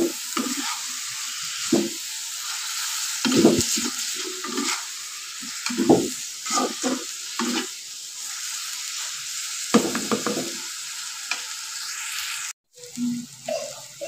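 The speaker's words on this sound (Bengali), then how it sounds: "পেঁয়াজটা ভাজবো" Onion sizzles in oil in a pan while being turned over and over, for a Bengali taki fish dish; continuous frying hiss punctuated by repeated close spatula scrapes and knocks, with no talking.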